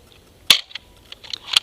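A Nerf crossbow fires foam darts in sharp snapping cracks, one strong shot followed a second later by another. Small clicks and rattles of the mechanism sit between them, close and with no talking.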